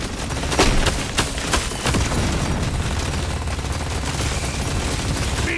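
Rapid bursts of plasma cannon fire in the Deep Rock Galactic Survivor video game, a dense barrage of loud, booming shots with sharp transients that stay steady throughout, no talking.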